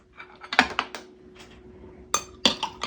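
A spoon clinks against a glass while stirring a rum cocktail of dark rum, sweet vermouth, orange juice, lemon juice and simple syrup, with no ice yet. Light, close taps come in two short bursts separated by a pause.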